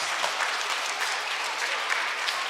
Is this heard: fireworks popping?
no